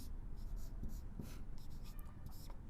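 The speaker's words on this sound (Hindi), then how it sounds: "अब एक वाक्य लिखता हूं" Handwriting a sentence, presumably pen or chalk on a surface, with faint, close scratchy strokes in short bursts over a quiet background and no speech.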